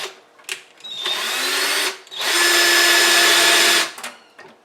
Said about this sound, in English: So that's the drill bit, it's a large one. So you need to make a hole anywhere there inside the circle,